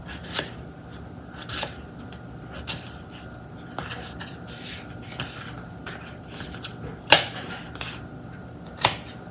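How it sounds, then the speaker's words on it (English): Knife dicing russet potatoes into cubes on a cutting surface: faint, irregular clicks and taps scattered over steady low background noise, with one or two sharper knocks standing out. "And I'll dice them all up, make them into cubes."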